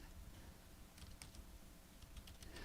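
Typing on a computer keyboard during an amateur radio roundtable, a run of quiet, irregular key clicks over a steady background hiss, with no voices.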